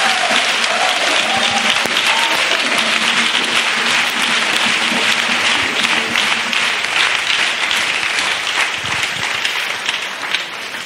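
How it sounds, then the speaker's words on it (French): Church congregation clapping for Jesus Christ during a bilingual French–English service: loud, sustained applause from a crowd that fills the whole stretch and tapers slightly at the end. "Let's clap for Jesus Christ."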